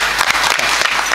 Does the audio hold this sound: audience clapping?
yes